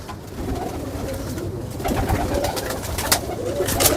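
Pigeons, including teddy and golden birds, coo in soft repeated low murmurs close by, with a few sharp wing or perch taps breaking through a busy background.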